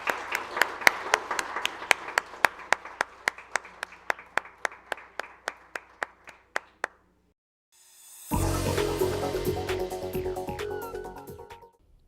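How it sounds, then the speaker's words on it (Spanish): At a book fair held by an electoral tribunal, evenly spaced single claps tick along in a steady rhythm for about seven seconds, then stop. After a brief silence, a louder, denser wash of sound bursts in. "Les pedimos un aplauso para nuestro invitado,"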